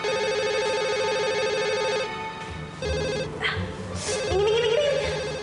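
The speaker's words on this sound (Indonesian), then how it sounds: "Julia, angkatin telepon gue dong." A telephone rings nearby with a repeating electronic tone that keeps going for several seconds, then turns into a shifting warbling ringtone pattern, with faint background noise beneath it.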